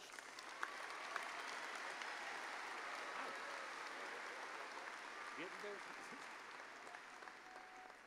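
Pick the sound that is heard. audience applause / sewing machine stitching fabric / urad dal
audience applause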